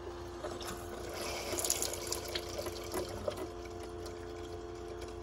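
Water runs from a trailer tap on the hot water line with a steady splashing rush and a few drips, close by and moderately loud, over a faint mechanical hum.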